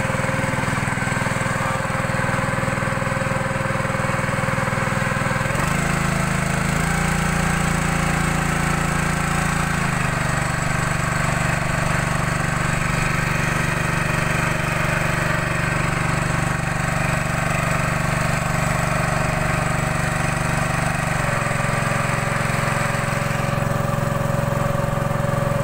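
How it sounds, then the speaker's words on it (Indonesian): A small ketek motorboat engine runs steadily on a river, a continuous close droning hum with slight shifts in pitch and no talking over it. "Laju mesin ketek kau selu bae dak pernah kebut-kebut"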